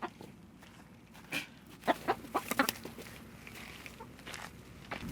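Chickens cluck on a farm in a short run of close, choppy calls clustered in the middle, over a soft outdoor background with no talk.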